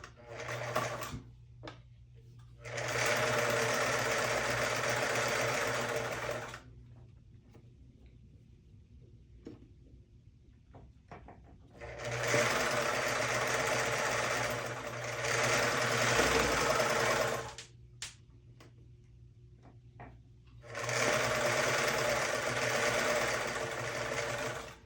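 Sewing machine stitching and back stitching a seam: three sustained runs of rapid mechanical whirring, each several seconds long, separated by quieter stretches with light clicks and handling.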